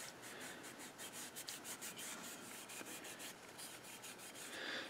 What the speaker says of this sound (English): you take a scouring pad after the sandpaper, and you give it a nice buff, and this will give it a nice finish